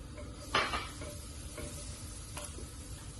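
Chopped red onion dropped into a hot pan gives a sudden sizzling burst, then settles into a quieter steady fry with light stirring and faint utensil scrapes, no talk.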